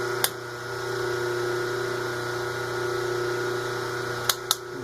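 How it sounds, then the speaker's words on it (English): Motor of a homemade bowl lathe running at low speed, a steady faint hum with a constant whine, broken by a few sharp clicks near the start and end. "you can see the lathe is actually still running"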